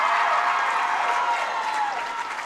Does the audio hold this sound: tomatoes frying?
no